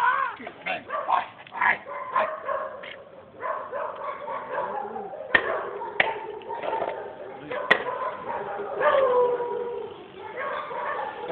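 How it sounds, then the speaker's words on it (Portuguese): A stray dog barks and yips repeatedly in short bursts close by, mixed in with people talking outdoors. "E esse cachorro aí é de quem?"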